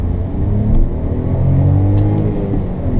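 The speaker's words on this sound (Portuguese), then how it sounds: "Vamos dar uma acelerada aqui para vocês verem" A 2017 VW Gol Track engine revs up with a deep, steady rumble that rises and swells, loud and close, with no talking.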